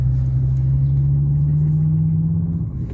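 An old Mercedes car engine runs while driving, a loud, steady low rumble with a constant droning hum that eases slightly at the very end.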